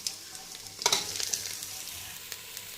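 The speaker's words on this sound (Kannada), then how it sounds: "ಆಯಿಲಲ್ಲೇ ಮಶ್ರೂಮ್ ಫ್ರೈ ಆಗಿ ನೀರು ಬಿಟ್ಕೊಳ್ಬೇಕು" Mushrooms frying in oil in a pan, with a steady sizzle and a brief burst of stirring or scraping near the start, heard alone without talk.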